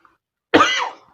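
A single person gives one sharp, close cough that trails off into a short, rough rasp, with silence before it.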